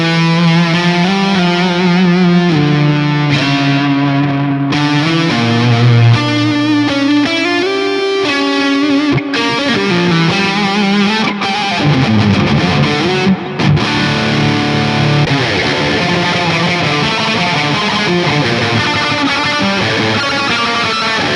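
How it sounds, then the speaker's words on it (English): A distorted lead electric guitar preset plays a continuous melodic line through an amp simulation with wide stereo and reverb, loud and sustained throughout with no talking. "So this is the lead guitar preset I have."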